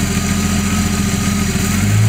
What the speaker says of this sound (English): This engine sounds good.